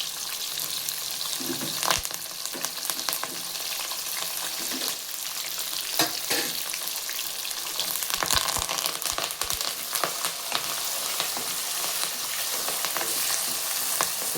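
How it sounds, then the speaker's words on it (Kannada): Onion, green chilli and curry leaves fry in a pan with a steady sizzle and dense crackling pops, joined by frequent stirring scrapes and taps close by. "ಈಗ ಈರುಳ್ಳಿ ಚೆನ್ನಾಗಿ ಫ್ರೈ ಆಗಿದೆ"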